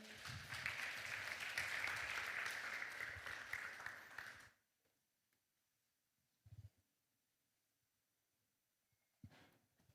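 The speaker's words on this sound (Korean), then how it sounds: "여러분 박수 보내주십시오." An audience at a Korean talk event applauds warmly for about four seconds as a guest is introduced, the clapping then cutting off into near silence broken by a couple of faint knocks.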